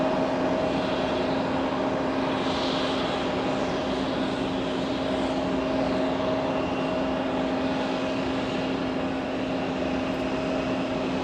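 A jet airliner departs from runway 4 Left at JFK airport, a steady, loud broadband engine roar with a constant tonal hum, sustained and unbroken throughout with no talk.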